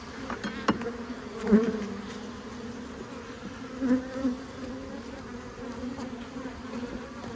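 Agitated honeybees in an opened hive during autumn, after eating through their pollen patties, give a continuous close buzzing drone that swells louder in short bursts, with no talking.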